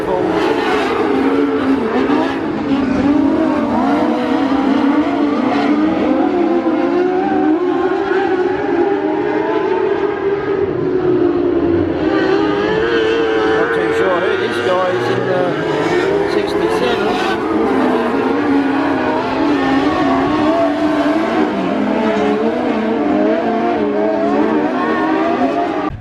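Wingless sprint cars race around Murray Bridge Speedway, their engines roaring loud and unbroken. The pitch swells and sags in long sweeps as the cars power through turns and down the straights.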